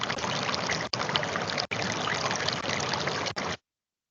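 Babbling creek water at Hampton Creek Cove flows in a steady, dense trickle close to the mic, broken by brief cuts before stopping.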